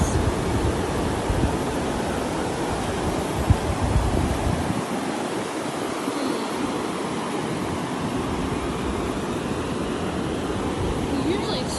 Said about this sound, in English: the beach that we are at is Dennis Beach